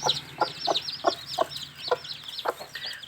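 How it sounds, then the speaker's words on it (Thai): Bantam chicks and chickens cluck and peep in the evening, a soft near flock giving repeated short clucks in an irregular rhythm with high chirps above them and no talk. "ลูกไก่สมบูรณ์แข็งแรง นะครับ"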